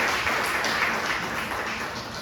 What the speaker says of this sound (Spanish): Denle un fuerte aplauso al Señor Jesucristo.